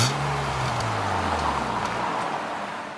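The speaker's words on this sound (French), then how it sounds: "Donc la voiture elle démarre au quart de tour." A BMW Z3 roadster engine fires up close by, settling from a rising rev into a steady idle, with its low tone slowly falling as it calms.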